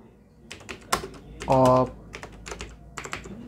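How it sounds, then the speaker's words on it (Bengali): A computer keyboard clatters in short, scattered bursts of keystrokes, close by, while someone speaks over part of the typing. "আমরা এখানে লিখব হচ্ছে পার্টিকুলার্স"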